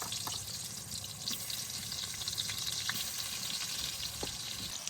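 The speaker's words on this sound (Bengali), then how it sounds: "এবার বেগুনটা ভেজে নিই" Eggplant fries in hot oil with a steady, close sizzle and scattered crackles and pops, moderately loud, with no voices.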